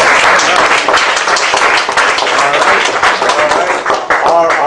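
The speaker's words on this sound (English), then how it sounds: "Give it a nice round of applause" An audience at a peace talk breaks into loud, continuous applause, dense clapping filling the room with a voice briefly mixed in.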